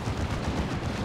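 Dense, rumbling lascannon fire and battle noise from Dawn of War 2 fills the clip with continuous heavy booms and no clear gaps, with no voices.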